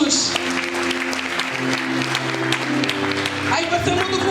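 Church congregation applauding during a sermon, a steady wash of clapping with crowd voices and sustained musical tones underneath, shifting near the end.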